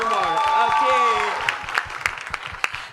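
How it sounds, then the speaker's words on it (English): Audience applause at a talk event with a guest, building under a cheering crowd and a loud harmonic voice early on, then settling into scattered claps that continue steadily. "I'm not hearing the applause loud enough."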